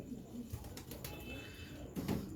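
A teddy-breed pigeon coos at home near its nesting pair, with a few low, soft, throaty coos over steady background noise and no talk.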